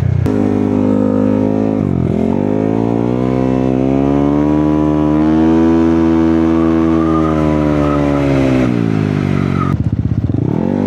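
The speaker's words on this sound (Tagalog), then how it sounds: "Dahil bagong palit yung clutch spring nito, ang ingay niya ngayon." A motorcycle engine running loud with a newly replaced clutch spring, revving in a sustained rising and falling drone close to the microphone, with a brief dip near the start and a rattly burst toward the end.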